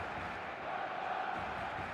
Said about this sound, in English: expectant buzz in the stadium